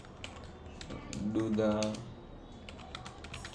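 Rapid clicking keystrokes on a computer keyboard during a front-end coding session, close and steady throughout, with a brief burst of speech over the typing.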